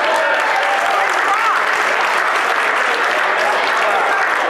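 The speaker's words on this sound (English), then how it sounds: "I'm just gonna give it to you by applause." An audience applauding to vote for Richard Pryor, loud, dense and continuous clapping that fills the whole stretch, with crowd voices mixed in.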